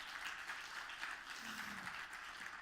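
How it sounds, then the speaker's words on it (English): Audience applause welcoming a founder speaker to the stage at a startup event, a steady wash of clapping held at an even level throughout with no voices over it. "So give a big applause for our next speaker,"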